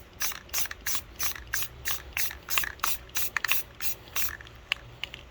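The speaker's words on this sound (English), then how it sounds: "I'm going to go in with a nice mist of blue." Short bursts of spray paint misted onto glass, about twenty quick hissing puffs in an uneven rhythm, close and fairly quiet, with no voices.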